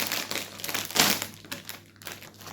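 A plastic snack bag of corn, oat, rice and wheat crisps is torn open up close, with quiet crinkling that peaks in one sharp rustling burst midway, then soft rustles fade.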